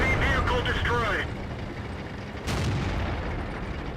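An enemy tank destroyed in World of Tanks sets off a heavy booming explosion and rumbling artillery fire, with a voice speaking over the first second and a second blast hitting midway.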